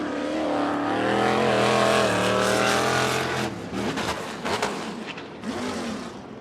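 A sprint car engine at Coos Bay Speedway during a qualifying session, loud and droning at first, then sputtering and coughing in uneven bursts as it runs badly, with an engine note that rises and fades near the end.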